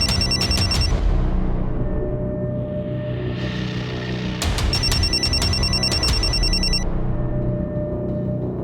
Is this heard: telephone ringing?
yes